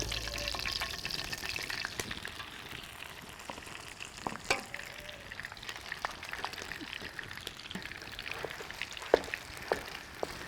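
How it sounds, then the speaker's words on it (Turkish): Steady sizzling and crackling of dough frying in butter in a pan, with occasional soft clinks and stirring sounds throughout. "Bunu böyle kese kese kızartacağız çevire çevire."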